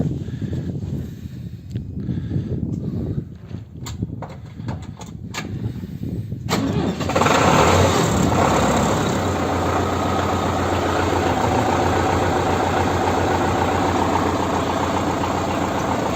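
A tractor engine cranks and catches, then settles into a loud, steady idle that keeps rumbling to the end.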